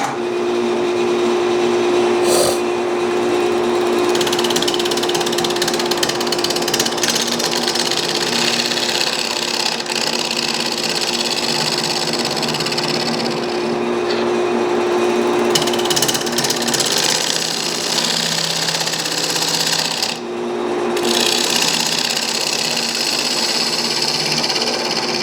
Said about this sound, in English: I'm just going to be using a round tipped carbide, and we're gonna get this thing turned.